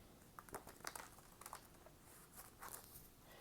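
Tarot cards being shuffled give faint, close, irregular papery flicks and soft riffling snaps, with quiet pauses between bursts and no talking.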